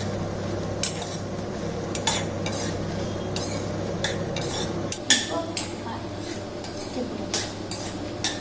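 Dried red chillies sautéed in a pan for coconut sodhi, a low steady sizzle under repeated spatula scrapes and metallic clinks against the pan, close and moderately quiet.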